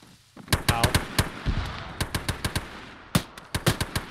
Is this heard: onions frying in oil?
no